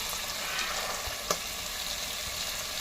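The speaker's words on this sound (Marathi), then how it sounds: "आणि ह्याचा कच्चेपणा जाईपर्यंत परतवून घेऊया." Beans and pigeon peas being sautéed in a pan for Surti undhiyu give a steady, close frying sizzle with soft stirring scrapes, one brief clack partway through, and no voices.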